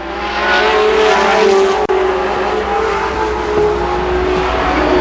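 Race cars at Columbus Motor Speedway roar loudly and continuously, engines howling as they slide sideways down the backstretch during a heat race on a dirt oval.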